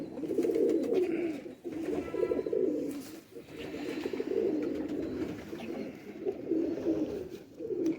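Pigeons sold as prized battery kabootar birds coo in repeated low, throaty phrases, close and fairly loud, cycling on and off over a faint background.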